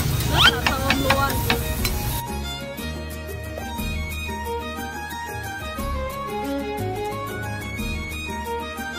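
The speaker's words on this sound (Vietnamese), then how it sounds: "Bây giờ sẽ cùng mình chiên gà nha." Steady crackling sizzle of chicken frying in oil, continuous and close, with a short burst of clatter and talk at the start and music throughout.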